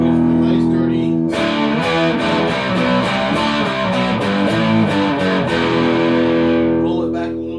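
An electric guitar through a 15-watt Blackheart Handsome Devil tube amp plays a distorted sustained chord, then a rapid run of driven, gritty picked notes, loud and close, before ringing out.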